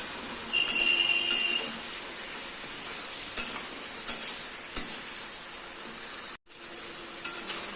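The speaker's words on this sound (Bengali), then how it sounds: "মশলা দিয়ে দেবেন মধ্যে আছে কাঁচা লঙ্কা শুকনো লঙ্কা আদা বাটা এটা দিয়ে এবার ভালো করে ভাজা ভাজা করে কষাতে হবে" Mixed vegetables with green chilli, dried chilli and ginger paste fry in a pan, a steady hiss broken by several soft clinks of a spoon against the pan and a brief pause near the end.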